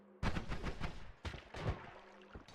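Sniper gunfire bursts out in the video game Noita, two loud, crackling volleys close together with a shorter shot at the end.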